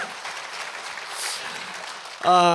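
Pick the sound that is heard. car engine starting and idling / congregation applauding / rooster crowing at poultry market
congregation applauding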